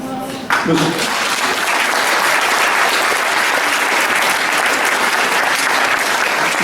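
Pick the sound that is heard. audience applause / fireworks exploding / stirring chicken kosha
audience applause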